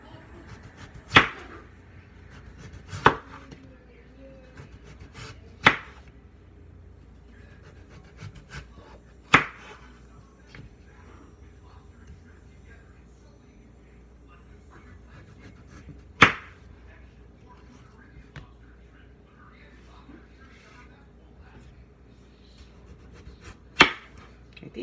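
A knife chops peeled potatoes on a board for homemade hash browns, with sharp, isolated cuts spaced a few seconds apart over a quiet kitchen background.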